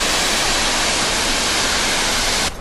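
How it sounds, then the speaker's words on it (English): A steady, dense roar of rushing water fills the whole clip, broad and constant like a nearby waterfall in Tierra del Fuego, cutting off abruptly at the end. "You hear the waterfall?"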